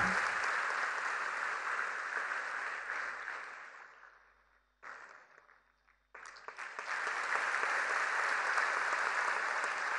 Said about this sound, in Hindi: तालियों का आशीर्वाद।